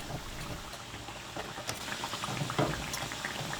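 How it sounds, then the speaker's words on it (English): Dumplings fry in hot oil with a steady, soft bubbling sizzle and occasional small pops, continuous and moderately close with no voices. "Allow it to fry 30 seconds between 1 minute"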